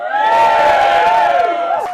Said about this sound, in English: And please keep the applause going.